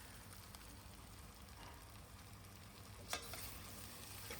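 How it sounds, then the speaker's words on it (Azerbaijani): Tomato frying in a pot for chickpea soup gives a soft, steady sizzle under a faint hum, with a brief scrape of stirring near the end. "Tomatla da biraz qovruldu."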